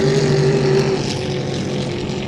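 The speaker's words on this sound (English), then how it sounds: "Wally Johnson from Helena, Montana, that beautiful DuPont orange boat" A 5-litre class hydroplane racing boat engine roars loudly and steadily during a race heat, a constant droning hum with no voices.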